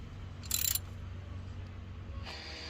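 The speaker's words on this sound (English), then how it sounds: "There's builders over there and they're drilling and cutting and stuff." Builders drill and cut nearby, producing two short, harsh, high-pitched bursts of power-tool noise over a quiet, low rumbling background.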